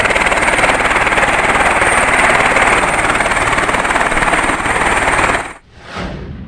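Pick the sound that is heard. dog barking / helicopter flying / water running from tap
helicopter flying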